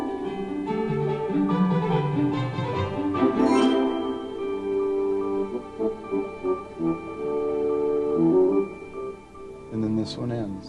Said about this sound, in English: so that it comes out as a simulation of what it will sound like with the orchestra.